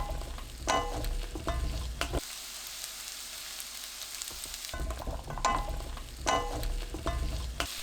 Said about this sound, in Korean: 달군 팬에 식용유 3큰술, 고구마 넣고 중불로 3분 굽듯이 볶아주세요.